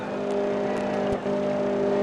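Race car on a walled track, heard as a steady engine drone throughout with a brief dip near the middle, continuous and moderately loud, a car moving slowly rather than at full racing speed.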